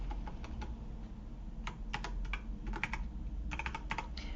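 Quick, light keystrokes on a computer keyboard tap out in uneven bursts, close and fairly quiet, with short pauses between runs of typing and no voices.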